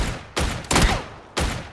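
Gunfire in the battle royale shooter PUBG: three sharp, loud shots at uneven intervals, each with a brief ringing tail, no talk over them.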